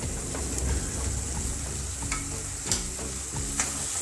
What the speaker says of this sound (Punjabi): ਮਸਾਲੇ ਮਿਕਸ ਕਰ ਦਵਾਂਗੇ ਤੜਕੇ ਨੂੰ ਹੁਣ ਪਕਾ ਦਵਾਂਗੇ